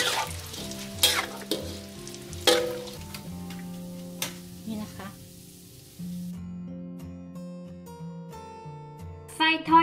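Pork large intestine deep-frying with garlic in hot oil, a steady close crackle and sizzle with occasional louder pops, over a soft tonal musical background.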